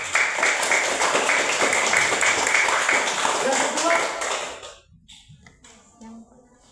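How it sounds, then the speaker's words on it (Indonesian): An audience in a classroom session claps together, a dense burst of applause that holds for about four seconds, then fades out into quiet with a brief trailing sound. "Kita tepuk tangan untuk kita punya kembar"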